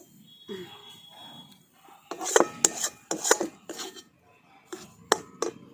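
A spoon scrapes and rasps through thick date paste cooking with ghee in a kadai, in clustered strokes against the pan, close and fairly loud.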